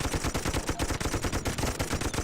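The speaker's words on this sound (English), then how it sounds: "This machine gun is not powerful enough to kill a turret." Machine gun firing in the World War I strategy game Toy Soldiers, a dense, loud, continuous burst of rapid rhythmic shots with heavy low thumps, running unbroken throughout.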